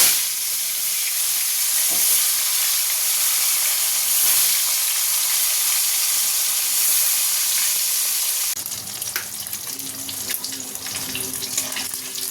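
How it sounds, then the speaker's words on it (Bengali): Fish rubbed with salt and turmeric frying in hot oil in a kadai, a steady broadband sizzle and hiss lasting most of the clip, then giving way to quieter clatter and a faint hum near the end. "মাছে নুন হলুদ মাখিয়ে নিয়েছি, এবার এগুলোকে ভেজে নেবো একে একে"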